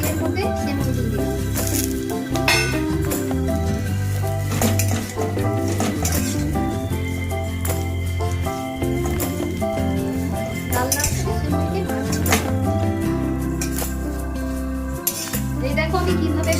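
Vermicelli being fried and stirred in ghee in a pan for semiya payasam, with steady sizzling, repeated scraping of a utensil against the pan and occasional metallic clinks, close and continuous over background music.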